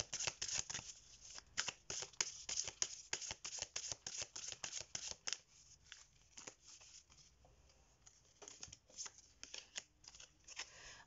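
A tarot deck being handled as a card is drawn, with dense rapid papery riffling and flicking bursts close up, easing off midway and then resuming in a steadier series of card snaps.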